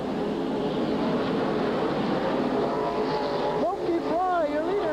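Race cars at Silver Spring Speedway drone together through a turn at a distance, a steady engine roar with a pitch rise as one passes near the end, beneath a track announcer's voice.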